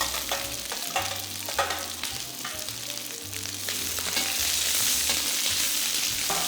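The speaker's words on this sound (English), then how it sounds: "When the oil is hot, add in the white parts of the green onions and the onion slices." Green onion whites and onion slices fry in hot oil for a beef stir-fry, a loud, close, continuous sizzle with occasional stirring scrapes, building slightly stronger toward the end.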